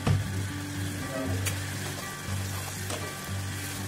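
Gravy for a potato and green pea kebab curry sizzling and bubbling in a pan, a soft steady fry with a couple of brief clinks and a low background hum.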